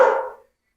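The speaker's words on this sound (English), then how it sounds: "I think she's barking at the guy who's playing this radio" Pet dog gives a single bark that fades out quickly, loud and close with no talk over it.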